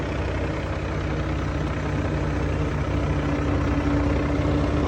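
A tractor engine drives a straw-chopping machine at about 1500 rpm during the straw season in Rajasthan, giving a loud, steady, close drone with a continuous low hum and no breaks.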